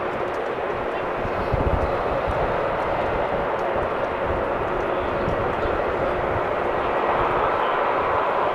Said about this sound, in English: the 777 just crossed the other runway I was talking about earlier